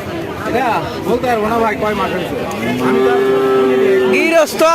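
A cow moos in a long, low drawn-out call amid a busy crowd of people talking nearby.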